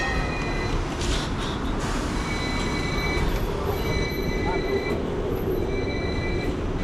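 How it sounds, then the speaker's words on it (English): A tram rumbles and rolls into a stop in Hong Kong with high metallic wheel squeals, steady and fairly close, with some background murmur. "Right now we're just waiting for the tram."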